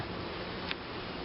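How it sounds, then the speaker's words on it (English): Honey bees buzzing during a hive inspection, a dense, steady hum close by that fills the whole short moment without a pause, with no talking over it. "We got plenty of bees on there."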